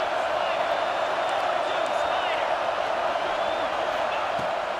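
A football stadium crowd roars in a dense, continuous wall of cheering that holds steady throughout, with faint whistles and shouts rising above it.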